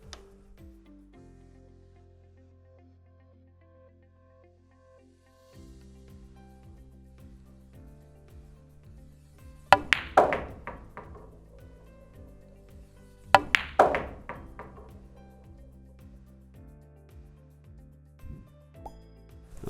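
Pool cue ball struck with a stun shot into the 6 ball, two sharp close clacks of ball on ball several seconds apart over a low hum, with quiet table knocks between.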